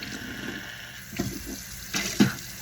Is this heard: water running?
yes